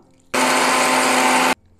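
A mixer grinder whirs at high speed as it blends papaya with water, starting abruptly after a moment of quiet and running loud and steady for just over a second before cutting off.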